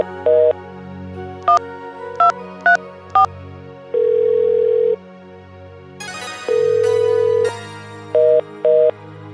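A telephone call goes unanswered in a Bhojpuri short film, with a sequence of loud electronic ringing tones and beeps in short repeated bursts and longer sustained tones against a low background hum.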